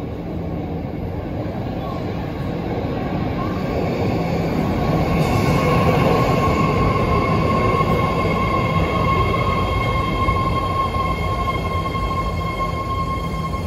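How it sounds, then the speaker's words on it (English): A BART Fleet of the Future train at Fruitvale station roars steadily with a continuous rumble of wheels and motor, with whining high tones and faint squeals riding on top, loud and sustained throughout. "This is a blue line train to Danny City."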